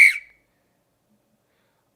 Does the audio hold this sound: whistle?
yes